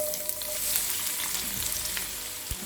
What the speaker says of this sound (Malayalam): ഇനി ഇതിലേക്ക് നമ്മൾ അരിഞ്ഞു വെച്ചിരിക്കുന്ന സവാള ചേർത്തിട്ട് ഫ്രൈ ചെയ്തെടുക്കാം